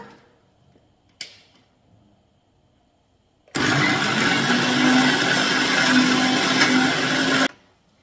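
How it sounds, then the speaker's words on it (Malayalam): A mixer grinder whirs loudly and steadily for about four seconds as it grinds aloe vera with no water added, starting abruptly after a quiet lead-in with a single sharp knock, then cutting off. "നമ്മുടെ കറ്റാർവാഴയുടെ ആ ഇത് മതി അരഞ്ഞെടുക്കാൻ വെള്ളം ഒട്ടും ചേർക്കാതെ അരഞ്ഞെടുക്കണം"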